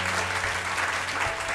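A student audience at Punjab College in Lahore applauds to welcome the chief traffic officer, a short burst of steady, full clapping from a crowded room.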